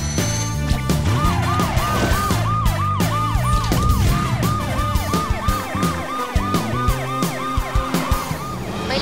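A cartoon police car siren wails continuously in a rapid repeating up-and-down pattern, loud and close over busy music and effects throughout.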